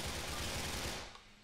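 Rapid automatic gunfire from the video game GTA 4, a dense continuous burst of shots that fades out near the end, with no talk over it.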